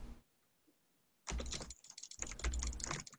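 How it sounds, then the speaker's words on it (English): Rapid, furious mouse and keyboard clicking while playing Minecraft UHC, arriving in two dense close bursts after a near-silent start, with no speech. "Furious clicking."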